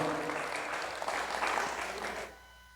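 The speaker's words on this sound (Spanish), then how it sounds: "Fuertes aplausos." An audience at a Catholic church gathering claps in a brief, steady burst of applause that fades out near the end, close and fairly loud.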